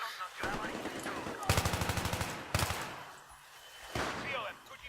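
Rapid bursts of automatic gunfire in the video game Battlefield 3, two long rattling volleys and a shorter one, loud against a quieter game background.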